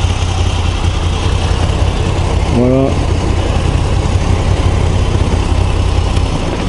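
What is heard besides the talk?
Moto Guzzi V85 TT motorcycle engine idling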